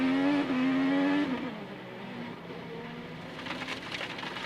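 On-board race car accelerating, Dixon's car: a rising engine whine that swells loudly, then drops into a lower, rougher rumble as the car powers out.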